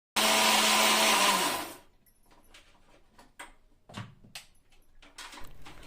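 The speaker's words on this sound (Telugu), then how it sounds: "మసాలా పేస్ట్ అంతే అంతా ముద్దలాగా మిక్సీ పట్టేసుకున్నాను" A kitchen mixer grinder whirs loudly at close range for under two seconds while grinding masala paste, then cuts off, leaving quiet clinks and handling noises.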